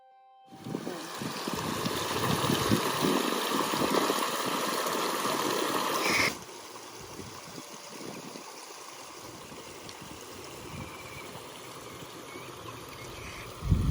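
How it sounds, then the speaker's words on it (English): Water trickling and splashing steadily from a garden water feature in a tropical Melbourne, Florida backyard, louder at first and then dropping to a softer, continuous flow. "it is centered around this lovely water feature"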